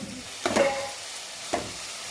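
Beetroot frying in a pan with salt, short bursts of sizzling and stirring scrapes, two distinct crackling surges separated by quieter moments.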